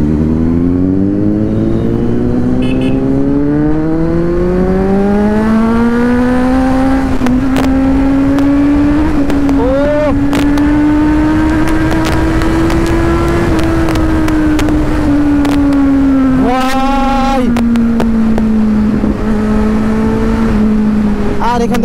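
A Kawasaki Z900 motorcycle races a Scorpio on an open road, its engine a loud, steady drone that rises and falls in pitch as it pulls, with brief revving surges and wind buffeting throughout, a voice talking over it.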